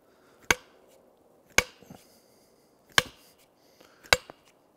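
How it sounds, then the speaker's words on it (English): Axe head on a Husqvarna multi-purpose axe struck with the back of another axe to tighten it, four sharp metallic knocks spaced about a second apart, close and fairly loud with brief ringing after each blow and no talk. "the way that you do that is by pounding the back of the axe"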